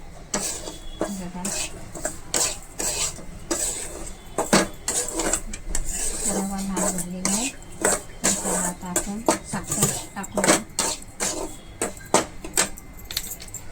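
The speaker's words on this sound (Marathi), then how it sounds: "आपण आता काजू बदाम टाकूया तेही सोबत भाजून घ्यायचे व्यवस्थित असे" Cashews and almonds are roasted and stirred in a pan with semolina for a prasad sheera. Quick, uneven metallic clinks and scrapes repeat up close throughout.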